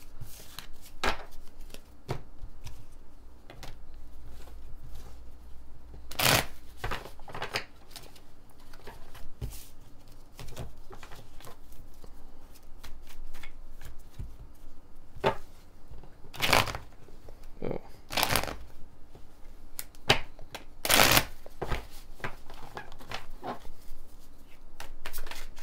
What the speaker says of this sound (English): Please excuse me while I shuffle these cards.